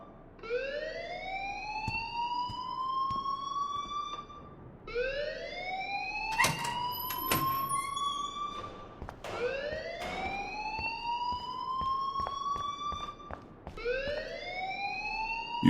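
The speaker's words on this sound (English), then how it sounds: "please turn off that alarm since that's your job." A school alarm in the video game Life Is Strange wails in repeated rising sweeps, about four long cycles, loud and continuous, with faint clicks and thuds in the background and no one speaking.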